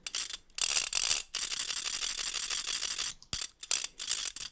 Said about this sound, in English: And we had a spinny noisemaker